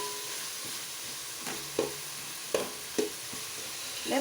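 Tomatoes fry in a pan for vegetable pulao with a steady close sizzle, and a spoon stirs and scrapes against the pan in a few distinct knocks.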